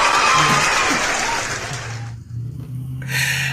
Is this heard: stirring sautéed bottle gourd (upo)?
no